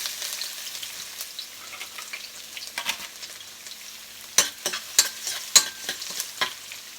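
Garlic fries in a pan for chicken kaldereta, giving a soft, steady sizzle broken by sharper scraping clicks as it is stirred, fairly faint and with no voices.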